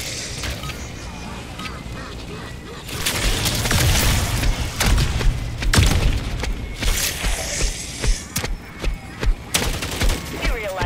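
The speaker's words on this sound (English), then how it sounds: "Grenade out!" Call of Duty Modern Warfare 3 Zombies gameplay, with a grenade blast followed by bursts of rapid gunfire and booming impacts, loud and close, with a voice briefly speaking.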